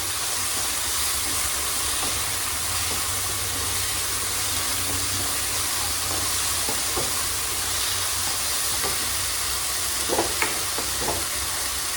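Leftover dal is reheated in a kadai, giving a constant hiss of bubbling and sizzling over a low hum, with a few soft scraping knocks from stirring near the end.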